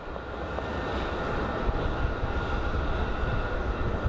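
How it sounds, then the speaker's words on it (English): A United Airlines Boeing 737 arriving from Denver at Phoenix Sky Harbor, a steady broadband engine rumble that holds close and even throughout with no talk. "we have a United Airlines 737 coming in from Denver"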